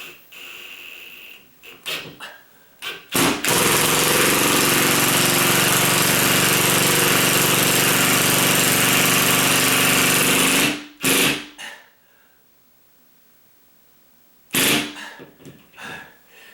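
A power drill driving a screw into a pre-drilled hole while a ceiling fan is installed: a few short clicks and bursts, then a loud continuous whirring run of about seven seconds, a brief quiet, and more short bursts near the end.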